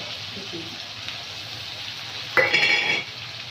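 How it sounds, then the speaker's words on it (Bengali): Masala for chicken curry fries in a pan with a low background sizzle, then a sudden bright hiss and scrape of stirring rises briefly near the end before fading, no speech heard. "মশলাটা কষানো হয়ে গেছে মশলা থেকে তেল ছেড়ে গেছে"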